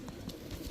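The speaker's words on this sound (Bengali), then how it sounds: "এক জোড়া লাল সুন্দরী কবুতর, টকটকা লাল গিয়ারের" A red Sundari pigeon with deep red plumage gives soft, low coos, faint and brief, with no voices.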